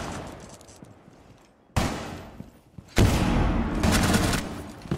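Video game gunfire on the Chalet map, with a sharp volley of shots that trails off, then a second heavy burst, then a dense, sustained rattle of automatic fire close by and loud, with no voices over it.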